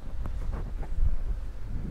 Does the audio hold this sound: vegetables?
no